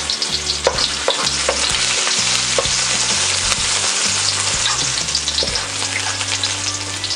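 Garlic sautéing in hot cooking oil for seafood sinigang, a loud, dense sizzle and crackle close by, with repeated stirring scrapes throughout and no voices.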